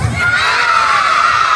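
Crowd of children at a feeding program shouting loudly together in a shouting contest, a sustained high-pitched collective yell, close and loud throughout.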